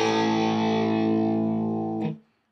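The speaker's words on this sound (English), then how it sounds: "I'm gonna make some noise with my Helix." An electric guitar played through a Line 6 Helix effects processor rings out as one loud, distorted sustained chord for about two seconds, then is abruptly choked off into silence.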